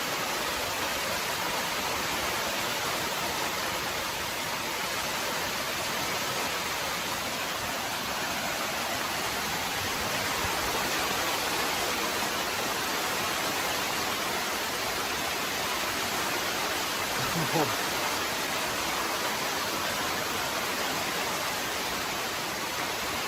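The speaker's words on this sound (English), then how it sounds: "That's a lot of rain." Heavy rain pours onto a tent at night during a thunderstorm, a dense, unbroken roaring hiss that stays loud and constant from start to finish, with no speech over it.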